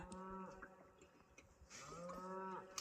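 Cattle on a farm across a lake moo twice from a distance, long low calls rising and falling, over a quiet evening outdoor backdrop with faint chirping.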